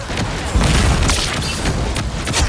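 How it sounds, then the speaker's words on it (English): A fireworks ability effect in the video game Marvel Rivals bursts loudly with a dense crackling rumble of booms and pops that persists throughout, close and continuous. "Time for some fireworks."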